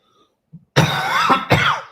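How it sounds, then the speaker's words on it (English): A person coughs twice in quick succession, harsh and close, after a short throat noise. "Hopefully not coughing all the time."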